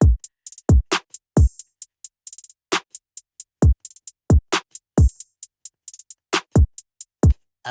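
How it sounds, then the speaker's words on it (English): A programmed drum pattern of crisp hi-hat ticks with softer quick rolls, interleaved with punchy low kicks in a steady groove, no voices. "you have these little rolls that are a little softer"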